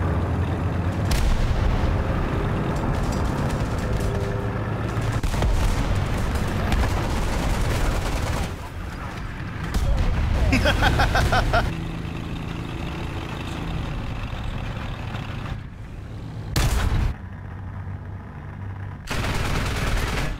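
A 30 mm autocannon fires in the Turm III tank game, loud dense bursts of rapid booming shots in long strings, broken by brief pauses and an engine rumble underneath.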